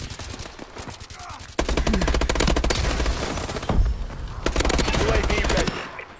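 Sustained automatic gunfire from a futuristic military shooter, Call of Duty: Advanced Warfare, rattling in loud rapid bursts with a brief lull partway through, a voice exclaiming now and then over the shooting.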